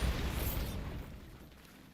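Bombarda explosion spell in Hogwarts Legacy, a dense booming blast with rumbling low end that hits at once and decays over two seconds into a fading roar.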